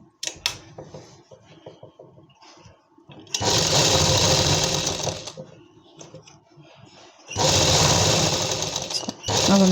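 Sewing machine stitching a palazzo seam closed, two loud sustained bursts of stitching separated by quieter handling and rustling of fabric.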